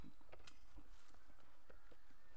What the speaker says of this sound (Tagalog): Ito yung kabayo.